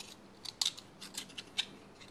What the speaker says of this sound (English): separate that abductor muscle